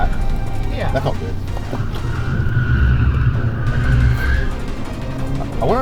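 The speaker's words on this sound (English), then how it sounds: "I wonder if that vibration we're hearing is just the traction control fucking fighting it." Interior of a 2021 Alfa Romeo Giulia on a canyon run, with a steady engine and road drone carrying a low rumbling vibration as ABS and traction control intervene, while occupants talk over it.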